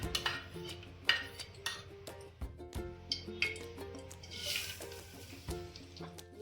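Coconut slices sauté in ghee while a spoon stirs them, giving repeated clinks and scrapes against the pan over a soft, faint sizzle.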